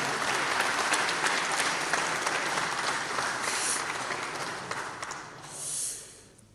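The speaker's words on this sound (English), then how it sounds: "a big applause" Audience applause at a tech conference session, a sustained burst of clapping from a crowd that gradually tapers off, with a breathy noise near the end.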